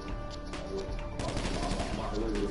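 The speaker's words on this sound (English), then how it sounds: "Somebody shooting at me." Gunfire in a roleplay video game comes as a dense, continuous rattle of shots, distant and steady, with faint voices from players in the background.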